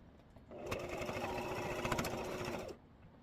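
A sewing machine runs one steady burst of rapid mechanical stitching through fabric for a chapstick holder, working close beside a metal ring, starting and stopping cleanly.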